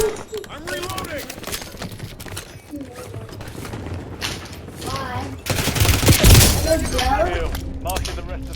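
Gunfire from a Warzone battle royale match, bursts of automatic fire and shots rising in intensity toward the end, with in-game voices talking throughout.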